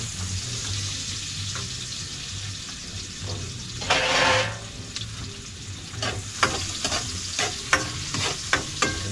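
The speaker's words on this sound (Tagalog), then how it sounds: "Sunugin natin yung bawang para mabango" Garlic frying in a pan for an egg dish, a continuous sizzle with a brief watery rush midway, then a run of sharp stirring clinks and scrapes.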